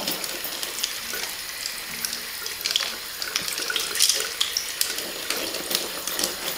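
Makeup brushes are rinsed under a running tap into a sink, with a continuous close stream of water and light splashing and swishing throughout.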